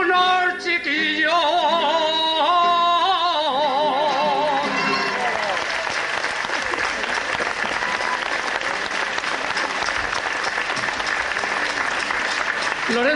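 Sung notes of an Aragonese jota from Huesca give way to loud, sustained audience applause, which fills the rest of the clip.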